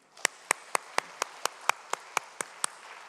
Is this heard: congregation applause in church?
yes